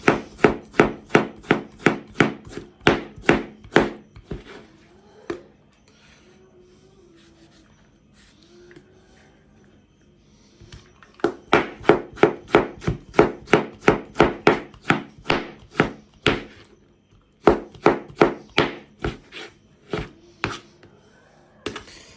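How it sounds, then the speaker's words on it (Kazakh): A knife chops tomatoes rapidly on a cutting board in quick rhythmic bursts, pausing for several seconds before the steady chopping resumes. "Қызанағымызды тура аламыз, осылай суық сақтап."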